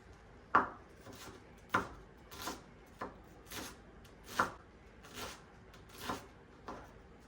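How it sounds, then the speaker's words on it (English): A knife slices through onions on a cutting board in a home kitchen, about ten crisp chopping knocks at an uneven, unhurried pace, close and clear with no talking. "I'm gonna go ahead and get these onions sliced up"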